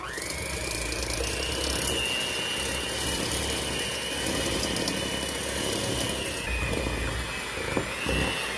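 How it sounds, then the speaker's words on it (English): An electric mixer beats keto cheesecake batter on medium speed, giving a steady, close, continuous motor whine with a slight pitch shift near the end. "now we're gonna mix on medium speed"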